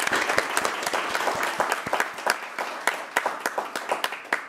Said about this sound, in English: we'll just give him a round of applause and join me in congratulating him